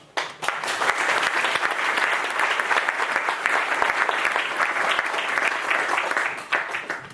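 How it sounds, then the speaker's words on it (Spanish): An audience at a talk in Deusto breaks into sustained, dense applause that stays loud and steady for several seconds before easing off slightly at the end, with a faint voice underneath. "Un aplauso."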